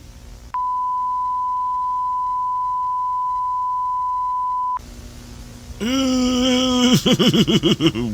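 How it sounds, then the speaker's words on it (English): A long steady electronic beep holds one pitch for about four seconds and then cuts off. A lower, buzzing tone follows, then warbling, groan-like distorted vocal sounds. "Not a fan of the long beeps either."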